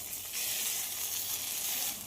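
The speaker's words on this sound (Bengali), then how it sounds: "আমি মিক্সচারের সব পেস্টটা দিয়ে দিয়েছি। এবার খুব ভালো করে কষিয়ে নেব।" Spice paste sizzles with onions in a frying pan, a soft, steady, hissing fry heard close and alone over a brief moment.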